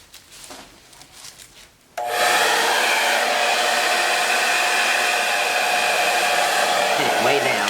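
A hair dryer blowing over a metallic Dutch acrylic paint pour: quiet handling rustles, then the dryer switches on abruptly and roars steadily and close for the rest.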